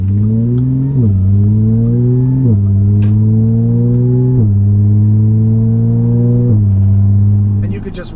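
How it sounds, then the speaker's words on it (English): A 2010 Audi B8 S4 with a dual-clutch transmission revs inside the cabin, its engine tone climbing and dropping in steps through quick shifts and downshifts, loud and continuous. "These downshifts are very nice."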